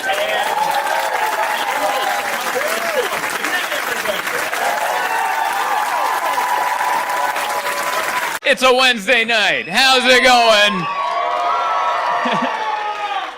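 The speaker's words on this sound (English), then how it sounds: "Some people wooing, some people clapping." Clapping and whooping from a sold-out comedy show audience at a mall fill the room, then someone speaks over the fading applause, and the cheering briefly swells again.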